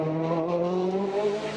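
A Citroën DS3 WRC rally car drives on a punctured tyre at a 2011 rally in Spain, its engine a loud, steady, rasping drone passing close with a slight rise in pitch.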